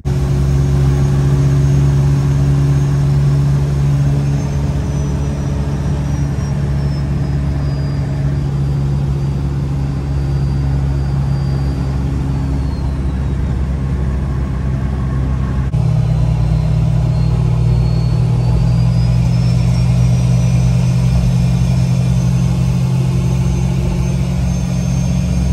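Toyota 2JZ engine swapped into a Jeep, running steadily under way at around 4,000 RPM with nearly 9 psi of boost, a continuous loud mid-range hum and rumble with no voices.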